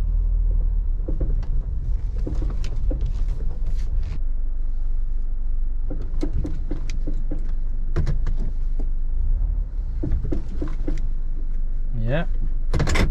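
Suspension of a 2014 Honda CR-V driving over a bumpy road, steady cabin rumble broken by irregular clunks and rattles, with a voice speaking over it near the end.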